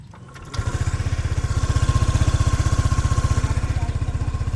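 A Suzuki Burgman 150 scooter engine catches and settles into a steady, even idle with a rhythmic low putter, close and fairly loud.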